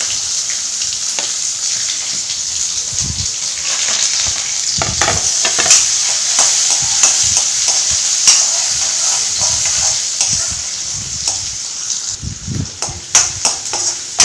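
Mustard seeds, cumin, curry leaves and onion fry in a hot pan with a loud, continuous sizzle, crackles and spatula scrapes that turn into scattered knocks and pops near the end, without speech.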